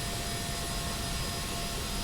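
Steady broadband roar of a Boeing 767 jet taking off in the Prepar3D flight simulator, continuous and even in level for the whole stretch with no other sounds on top.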